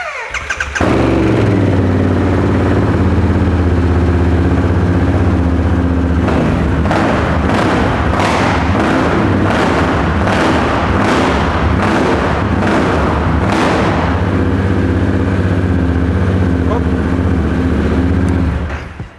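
Loud motorcycle engine in a private garage revving hard toward 9,000 RPM, a steady roar rising into a run of sharp repeated throttle blips mid-clip before settling back to a steady idle.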